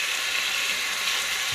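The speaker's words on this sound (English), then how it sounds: "Let the onion go and saute" Onion sautéing in a pan while cooking Jamaican-style steamed fish, a steady, even sizzle and hiss with no break, close and fairly loud.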